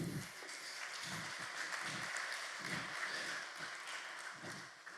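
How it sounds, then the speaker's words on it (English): Symposium audience applauding a speaker, a steady wash of many hands clapping at moderate distance, with a few low thumps and no clear talk over it. "A round of applause for Guy"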